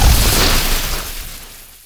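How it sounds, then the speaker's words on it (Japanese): An explosion effect from a fantasy audio drama, a loud, broad burst with heavy low rumble that fades and decays over about two seconds, heard alone. "爆発した。"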